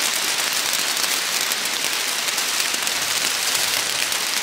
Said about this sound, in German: Es regnet schon wieder so richtig in Strömen.